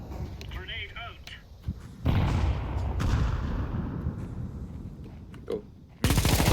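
Gunfire and a grenade blast in a first-person shooter video game: steady rattling fire, then a loud burst of explosion and shooting near the two-second mark, and another abrupt, intense blast at the end.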